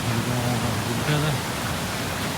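Bangara Kusuma waterfall near Gerusoppa, Honnavar, pours with a steady, dense roar of rushing water. A muffled voice briefly rises over the noise near the start.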